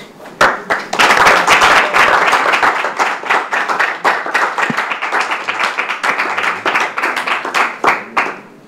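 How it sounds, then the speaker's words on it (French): An audience at the Dolait Show competition final gives a school, Collège Saint-Michel, a round of applause: dense, loud hand clapping that swells quickly, then thins into scattered claps, with a little talk underneath. "est-ce qu'on peut applaudir très fort pour Saint-Michel?"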